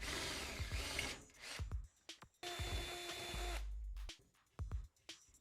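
A power drill with an auger bit cuts a keyhole through a wooden door, stitching two holes together in several close, grinding bursts separated by short pauses and scraping sounds.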